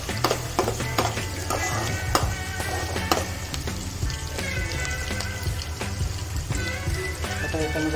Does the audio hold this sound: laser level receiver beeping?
no